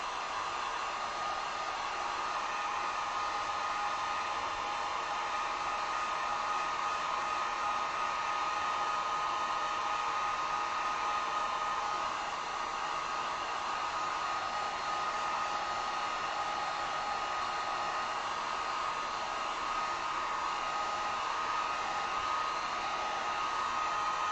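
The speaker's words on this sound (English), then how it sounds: "I'm going to take this heat gun." A heat gun blows steadily to dry acrylic paint on a tulip umbrella sign, a constant even whooshing hiss at moderate level with no change and no talking.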